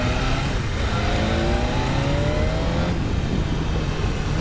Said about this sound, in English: There we go, now you got pops.